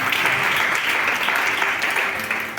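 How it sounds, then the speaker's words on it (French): A church congregation in Yopougon applauds and acclaims the Lord, a dense, sustained wave of clapping and cheering that stays loud and even before tapering slightly at the end. "Est-ce que tu peux pas encore acclamer le Seigneur pour nous?"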